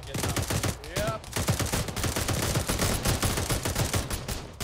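Rapid bursts of automatic gunfire fill an ArmA 3 military firefight, dense cracking shots repeating steadily and loudly throughout with little pause.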